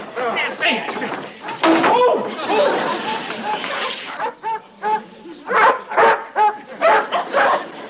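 Several dogs bark and yip in bursts, some whimpering between, close and lively, mixed with people talking over them in a comedy series scene.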